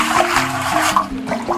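Water sloshes and splashes steadily as an earthen drinking-water pot is washed by hand, a close, continuous wet rinsing sound with no talk.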